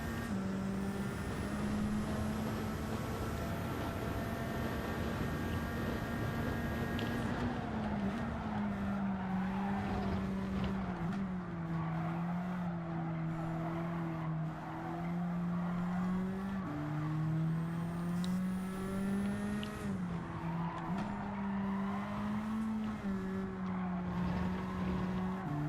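A race car engine in a racing video game, boosted with nitrous: a loud, sustained high-revving drone whose pitch dips and climbs through gear changes for the whole stretch, with no voices.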